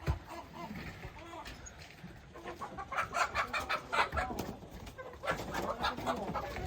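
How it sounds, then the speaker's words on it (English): Several chickens cluck and chatter close by on a family property, bursts of clucking rising and falling in overlapping waves, with a voice speaking faintly underneath. "mom is releasing this chicken"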